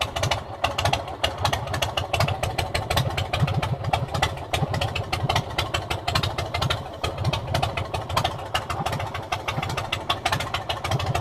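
A motorcycle engine idles while warming up outdoors, a loud, close, steady chugging pulse that runs without a break and with no voices over it.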